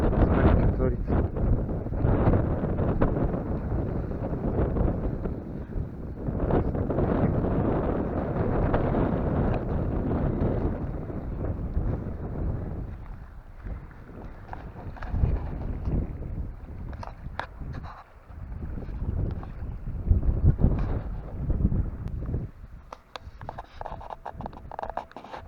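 Strong wind roars by the water at Achadovo, battering the microphone with a loud, continuous broadband rush that swells and eases in gusts. Small boats are nearby, and a muffled voice may be faintly present under the wind.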